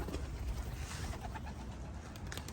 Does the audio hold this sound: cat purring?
no